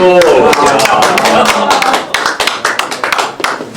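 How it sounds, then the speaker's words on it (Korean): Applause breaks out at a protest rally against the release of Fukushima radioactive water, a dense crowd clapping that thins into scattered claps, with a voice heard at the start. "박수."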